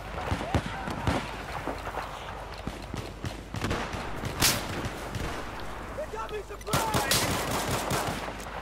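Gunfire from a pistol in the video game Battlefield 4, with rapid sharp cracks and bursts of shots over background game noise through the whole stretch, close and fairly loud.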